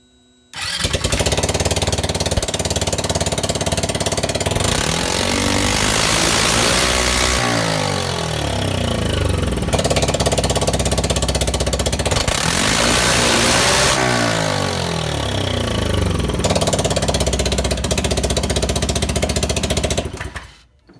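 Polaris RZR 170 engine with its exhaust removed starts up and runs loud and raw, its harsh rattling note rising and falling through two revving surges before it settles, with no talking over it.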